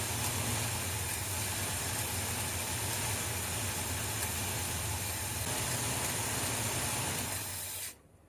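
A 1978 Ford F150 engine running steadily after cranking, with a continuous rough idle and hiss at even loudness for nearly eight seconds before cutting off abruptly, close and with no talking.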